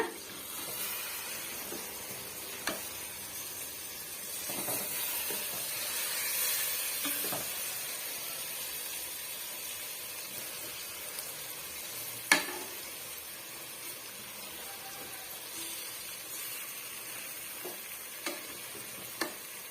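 Egg biryani frying in a pan, a steady hissing sizzle with occasional sharp clicks and scrapes of a utensil as the rice is stirred and turned, continuous and moderately quiet without speech.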